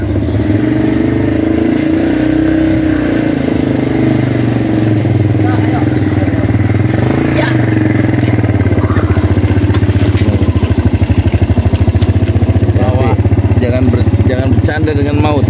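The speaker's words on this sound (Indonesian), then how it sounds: "Kita naik motor perang ya." Motorcycle ride with a continuous loud engine drone close to the microphone, idling and revving with rising and falling pitch, and rapid firing pulses growing stronger toward the end, with voices talking over it.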